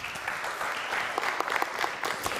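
An audience at a speedway world championship conference event claps warmly, giving a continuous dense wash of applause with sharper individual claps standing out, fairly loud and steady.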